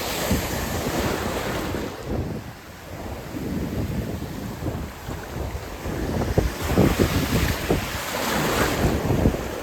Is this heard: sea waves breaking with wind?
yes